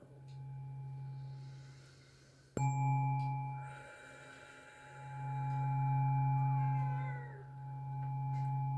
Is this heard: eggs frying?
no